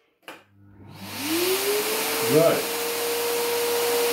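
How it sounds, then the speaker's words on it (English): A household vacuum cleaner starts up with a thump and a rising whine, then runs on as a loud, steady roar, close by, with a brief change in pitch midway and a single word spoken early on. "It's vacuuming."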